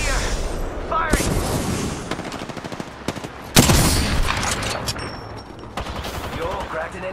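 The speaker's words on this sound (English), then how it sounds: "Enemy is right here. Firing." Rapid bursts of automatic gunfire in the video game Apex Legends, loud and close, with repeated volleys, a heavy boom midway and further shots, under game voice lines.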